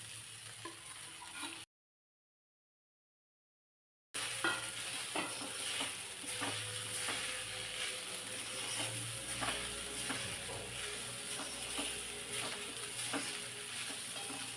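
Sabudana khichdi with potatoes sizzling in a pan, a steady soft crackle of frying with rhythmic scraping of a spoon stirring through it, close and quiet, broken by a short gap of silence near the start.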